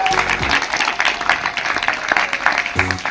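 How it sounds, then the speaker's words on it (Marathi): A room of children clap together after singing a song in a classroom values lesson, brisk and steady throughout, with a brief harmonic voice or tone near the start and end. "सगळ्यांनी स्वतःसाठी आणि गाणं म्हणणाऱ्या सगळ्यांसाठी टाळ्या वाजवा"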